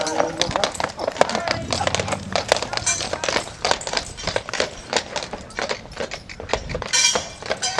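Draft horses' hooves clip-clop and thud on a hard floor while the horses are loaded into a trailer, a busy, irregular run of close knocks and clanks with people talking over them.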